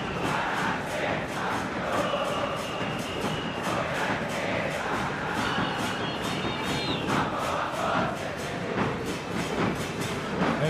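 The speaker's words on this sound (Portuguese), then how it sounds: "É boa de canto a torcida do Emelec." Emelec football fans sing and chant in a packed stadium during a 2012 Libertadores match against Corinthians, a loud, continuous roar of crowd voices with rhythmic pulses, and no commentary over it.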